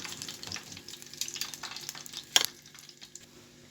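Batches of crispy chicken pieces fry in hot oil with a steady, close sizzle and crackle, broken by one sharp louder spatter midway, with no voices.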